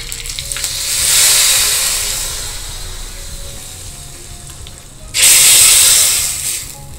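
Cumin seeds and curry leaves sizzle in hot oil as a tempering for pepper-cumin rasam in a South Indian kitchen, two loud bursts of frying hiss, the second sharper and sudden, with a quieter simmering sizzle between them.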